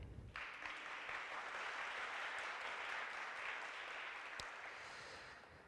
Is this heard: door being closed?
no